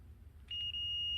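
A steady high-pitched electronic beep from a multimeter continuity test starts partway through and holds continuously to the end, over a low background hum.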